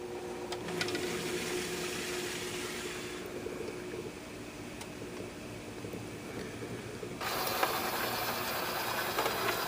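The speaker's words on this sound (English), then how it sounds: "you'll actually be able to see the caddy move across the disc here" An RCA SelectaVision VideoDisc player's mechanism moving the needle across a disc, heard as faint, close mechanical whirring and ticking under a hiss, changing tone partway through.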